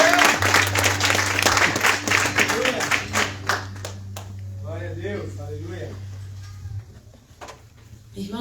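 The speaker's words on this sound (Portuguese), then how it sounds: "Você pode aplaudir o nome do Senhor." A church congregation claps through an Easter service, dense applause filling the room for several seconds and then thinning out, with a steady low hum underneath and a voice speaking over the final moments.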